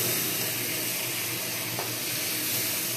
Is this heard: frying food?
yes